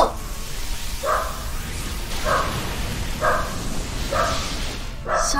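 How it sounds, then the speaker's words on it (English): A dog barks in the background about five times at a steady, roughly one-second rhythm, the barks muffled and moderately distant under a constant broadband hiss. "You can hear my dog."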